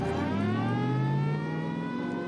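Police car siren in an old film soundtrack, a single sustained wailing tone that slowly sweeps downward and fades slightly over a couple of seconds, heard alone without talk.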